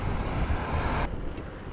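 Wind buffets the microphone in a dense, rumbling roar that suddenly thins partway through, leaving a softer rush with a faint passing swish.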